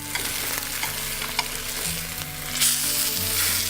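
A halibut fillet sears in butter in a pan, giving a steady close sizzle with a few scraping knocks, then a louder hiss near the end as the fish is flipped.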